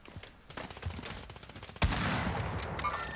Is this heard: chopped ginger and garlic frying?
no